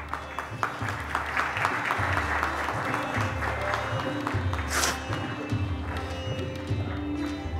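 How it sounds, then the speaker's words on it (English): Audience applause for an award winner at a national leadership conference, dense continuous clapping from a large hall with a rhythmic low thumping beneath it. "please join me in extending a huge round of applause for the winner."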